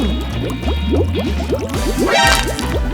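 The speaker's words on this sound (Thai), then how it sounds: "ใส่น้ำมันลงไป" Oil poured into a container while cooking, a loud, close stream of rapid glugging drips and splashes that swells near the end, with no speech.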